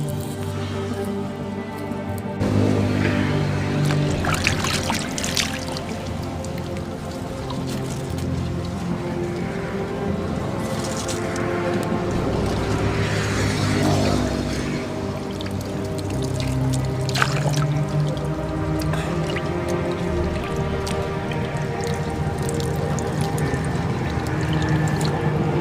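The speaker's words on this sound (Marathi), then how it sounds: "उसाला पाणी सोडले, इथून पाणी जाते." Water flows steadily along an irrigation channel feeding a sugarcane field, a continuous loud rushing and trickling wash with no pauses.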